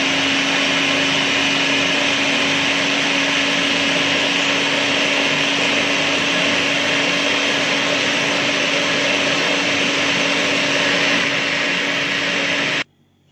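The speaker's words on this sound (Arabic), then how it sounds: "أنا ما بحبش في التصوير بتاعي إن أنا أشغل الخلاط عشان الإزعاج بتاعه" A kitchen blender making homemade butter whirs loudly and steadily at a constant pitch, then cuts off abruptly near the end.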